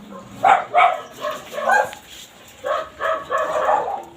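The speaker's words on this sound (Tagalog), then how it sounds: "There's a lot of dog over here." Dogs bark in several quick bursts, fairly close and loud, with short pauses between groups of barks.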